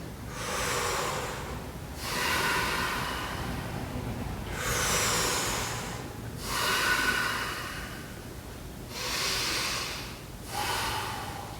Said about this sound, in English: 3 breaths.